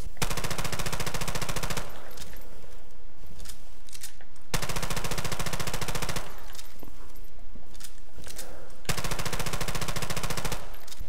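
Sustained automatic gunfire in Call of Duty: Modern Warfare Remastered, three long loud bursts of rapid shots, each about two seconds, separated by short gaps filled with lighter noise.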